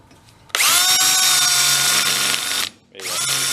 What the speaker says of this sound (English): Back on high speed, same size drill.